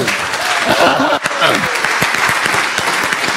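A church congregation bursts into loud, dense clapping and cheering, close and continuous, mixed with shouting voices.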